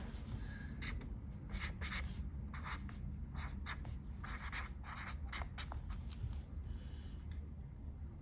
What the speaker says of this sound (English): now I am going to write budget.